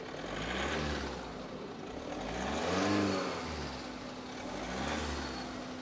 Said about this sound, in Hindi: मैं चाहूँगा कि थोड़ा सा ना इंजन की साउंड एक बार सुनाई जाए कि बाहर खड़े होकर इंजन की साउंड कैसे आती है।